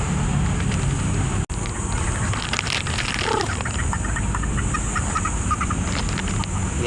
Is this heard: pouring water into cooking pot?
no